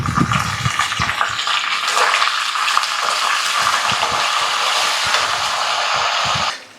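Curry leaves dropped into hot oil with slit green chillies while making tamarind pulihora, a loud steady sizzle and crackle that holds evenly before cutting off.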